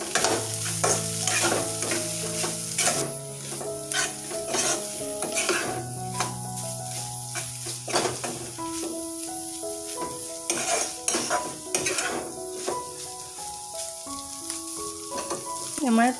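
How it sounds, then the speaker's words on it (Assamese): Paneer bhaji fries with a continuous sizzle while a spoon stirs it, giving repeated scraping and clinking against the pan, with background music playing throughout. "আৰু ভালদৰে লৰাই লৈছোঁ।"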